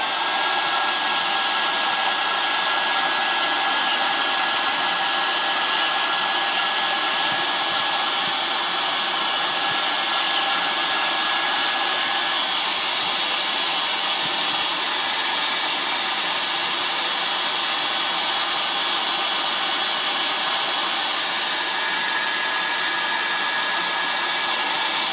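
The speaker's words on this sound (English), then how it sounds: "I'm going to use a hair dryer" A hair dryer runs continuously at close range during a rusting paint technique, a loud steady broadband whoosh with a faint whine that stays unchanged for about 25 seconds, with no one talking.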